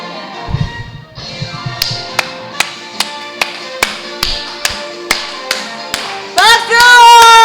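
Church congregation clapping in a steady, even beat at a meeting, sharp crisp claps roughly twice a second after a short murmur, with singing voices rising at the end.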